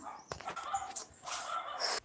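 A dog makes short close barks and whimpering yelps in quick succession, fairly loud, with no speech.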